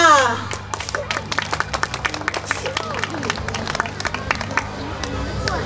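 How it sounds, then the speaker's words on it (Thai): Applause from an audience at a kindergarten show in Phitsanulok, with many sharp hand claps scattered across the room, mixed with crowd noise and a steady low hum underneath. "ขอเสียงปรบมือ"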